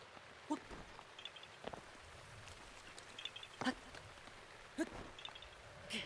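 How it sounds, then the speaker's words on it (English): Soft game rain falling in The Legend of Zelda: Breath of the Wild, a steady faint hiss with scattered small drops and taps, fairly quiet throughout. "Please end the rain."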